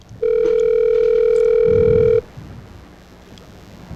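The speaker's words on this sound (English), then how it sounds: "This is the sound of calling McDonald's." A telephone ringback tone sounds while calling McDonald's, one long steady electronic tone lasting about two seconds, clear and close, followed by quiet line noise.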